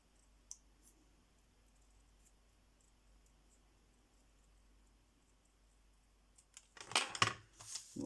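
A few sharp snips of scissors cutting paper for a scrapbook album, close by, clustered near the end after a long quiet stretch.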